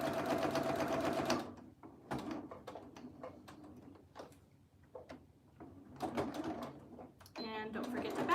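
A sewing machine top stitches a fabric ear saver in a steady run of whirring stitches, fairly close and moderately loud, then stops and starts in shorter bursts with small clicks and handling noises between them.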